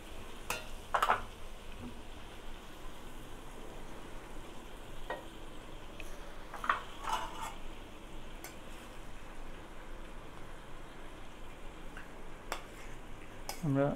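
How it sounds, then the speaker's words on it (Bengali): Cooked rice tipped into a pan and stirred for fried rice, with a soft continuous sizzle and scattered scraping clicks of a spatula against the pan throughout. "আমরা রাইসটা ঢেলে দিচ্ছি আমি।"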